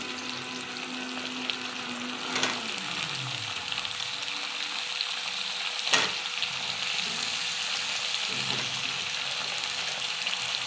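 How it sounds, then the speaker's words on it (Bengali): Steady frying sizzle of potato and pointed gourd in a pan with fried onions, occasional stirring clatters, moderately loud and continuous, no voices. "সব দিয়ে ভালো করে একটু ভেজে নেবো পটল আর আলুটা।"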